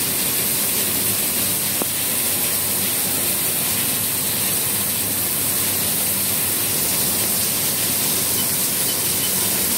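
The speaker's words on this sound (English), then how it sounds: "can see the coolant nozzle, it blows out pretty strong. It's programmable coolant." Coolant sprays strongly from the programmable nozzle of a 2014 Haas VF-6SS 4-axis CNC vertical mill, a dense, unbroken hiss with no pauses, close and loud.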